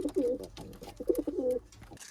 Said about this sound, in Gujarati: આ એક ઉડવાવાળી સારામાં સારી નસલની કબૂતર છે.